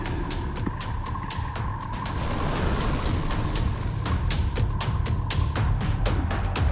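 A gas furnace burner heating up for a shrimp-firing gun roars steadily, the roar swelling louder midway, while a rapid series of sharp ticks repeats throughout.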